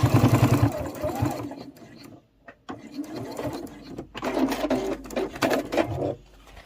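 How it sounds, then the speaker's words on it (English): Sewing machine stitching along the edge of a cross-body sling bag, running in several bursts of rapid whirring with short pauses between, close and fairly loud. "then I can just stitch off the edge"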